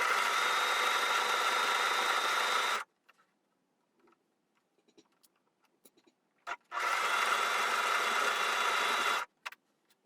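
A sewing machine runs a long pajama lounge pant seam in two steady bursts of stitching, each a few seconds long, separated by a quiet pause with small handling clicks.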